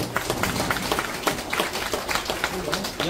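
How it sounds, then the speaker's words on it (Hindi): An audience at a workers' union meeting applauds steadily throughout, with dense clapping and some speech mixed in. "ताली बजाइए"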